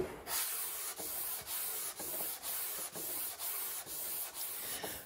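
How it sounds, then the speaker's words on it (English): Wood finish being sanded by hand with 180 grit sandpaper, a steady rasping scrape in rhythmic back-and-forth strokes roughly every half second, close and continuous with no talking. "got it all blocked, sanded down with 180"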